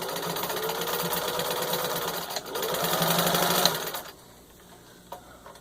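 A vintage 1951 Singer 15-91 sewing machine stitches in a fast, steady clatter for about four seconds, briefly easing midway, then stops, leaving quiet room tone.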